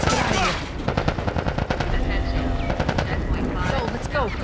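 Rapid bursts of automatic gunfire in the video game The Last of Us Part I, dense and loud, with shouting voices mixed in over the shooting and a mechanical whirring in the background.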